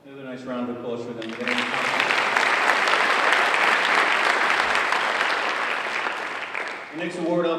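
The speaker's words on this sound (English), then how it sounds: "Another nice round of applause for them." Audience applause at a high school senior academic awards ceremony swells after a speaking voice and holds steady for several seconds, then fades as talking resumes.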